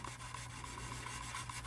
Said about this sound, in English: I use the heck out of my sanding sticks.